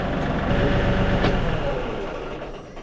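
A heavy tractor engine runs loud and close with a rough, steady rumble that slowly fades slightly toward the end.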